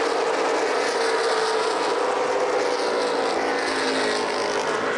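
Late model sportsman race cars roar together on the oval at Lucas Oil Raceway in Indianapolis, a continuous dense engine drone at steady, loud level without a break.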